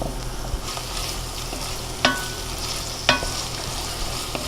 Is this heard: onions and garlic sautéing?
yes